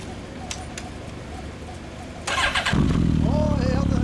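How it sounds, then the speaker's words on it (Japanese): A Honda CB1300 Super Touring motorcycle with an aftermarket exhaust starts up and settles into a loud, steady idle close by. It follows a few seconds of quieter background, with birds audible and people talking nearby. "エンジンを聞かせてもらえますか？"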